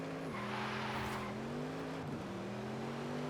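Car engine in the Forza Horizon 5 racing game revving steadily with pitch climbing and dipping between gear shifts, loud and continuous for several seconds with no talk.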